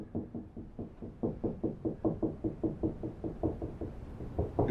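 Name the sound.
tapping along a wall to find studs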